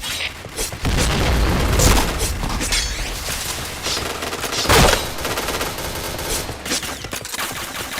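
Loud booming blasts in a first-person shooter round, with a heavy explosion near the middle amid bursts of gunfire and rapid shots filling the whole stretch.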